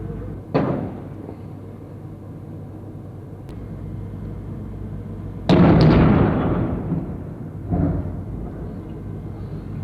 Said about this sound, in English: That shell fire. Someone's shooting into that building.